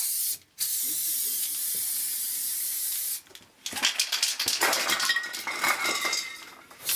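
Aerosol spray paint can hissing out black paint onto hardboard in long steady bursts, broken by a brief pause, then followed by clinks and rattling handling noises close by.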